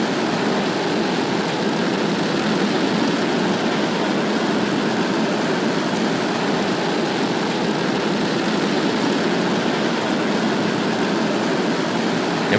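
A steady, dense roar from the engines of a rocket in ascent. It sounds distant and broadband and stays unbroken throughout, with no speech.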